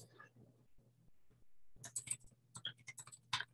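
Keys tapping on a computer keyboard, a quiet, uneven run of close clicks that grows busier in the second half, faint against a low hum with no talking.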